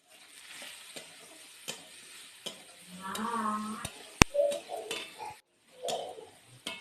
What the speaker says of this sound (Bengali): গরম তেলে হলুদ ও লবণ দিয়ে আলুটাকে